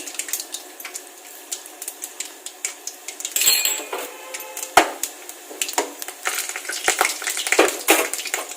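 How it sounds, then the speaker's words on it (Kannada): Mustard seeds, cumin and chana dal tempering sizzle in a pan for a potato palya, with crackling pops and scraping clatter of a utensil against the pan, fairly close and without talk. "ಇಲ್ಲಿ ಆಲೂಗಡ್ಡೆ ಪಲ್ಯಕ್ಕೆ ಒಗ್ಗರಣೆ ಬೇಯ್ತಾ ಇದೆ"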